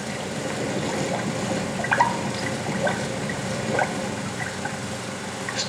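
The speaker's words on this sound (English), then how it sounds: "the berries continue their journey by way of a water trough" Water runs steadily along a trough carrying freshly harvested coffee berries on a Brazilian plantation, a continuous close rush and trickle with a few small splashes and drips, with no voices.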